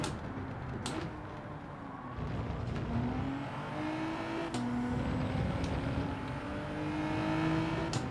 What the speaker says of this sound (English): There are so many cars behind us.